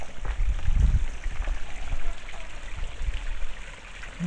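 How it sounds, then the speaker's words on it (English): A small waterfall on a woodland stream keeps up a steady, close splashing rush throughout, with a few louder gurgling surges in the low end. "A little waterfall here."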